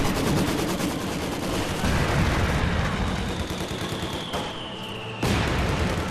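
Dense, continuous machine-gun fire from enemy positions in the World War II strategy game Company of Heroes 2, rattling loudly and steadily for several seconds with bursts overlapping, then a sharp fresh volley near the end.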